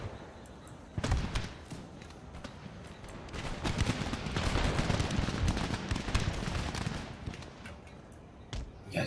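Musket volleys in the video game Empire Total War, a dense run of sharp cracks and rolling gunfire that swells and thickens toward the middle, loud and continuous with battle noise and a voice underneath.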